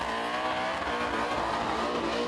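Supercharged Blown Wagon burnout car at a Summernats burnout event, engine roaring and revving loud and continuous throughout, dense and gritty with a hint of tyre squeal, no voices.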